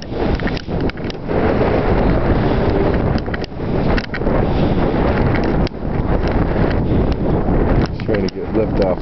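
Strong wind roars over the microphone at an airfield where a Cessna 185 with a new, smaller propeller tries to take off, a dense, loud buffeting rush filling the whole clip with brief dips.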